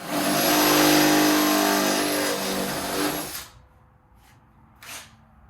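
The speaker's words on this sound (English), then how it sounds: "Make sure that I'm not gonna go drill it too big." A power drill whines loudly at high speed for a few seconds, then cuts off, followed by two short quiet bursts.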